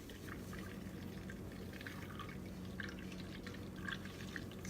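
Oat milk mixture poured into a strainer, a steady continuous liquid pour with light splashing and dribbling throughout, fairly close and even in level.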